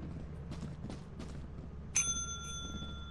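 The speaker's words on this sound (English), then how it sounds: "Steve, ring the bell since you didn't really get anything" A ship bell in the Lethal Company video game rings once with a sharp metallic strike, its clear tone hanging and ringing out, after a few soft footsteps against a low background hum.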